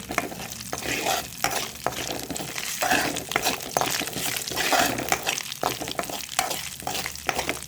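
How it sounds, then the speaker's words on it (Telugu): Ginger-garlic paste fries in a pan with a steady sizzle, while a spoon scrapes and stirs in repeated strokes close by. "అల్లం వెల్లుల్లిపాయ పేస్ట్ చక్కగా ఫ్రై అయిపోయింది."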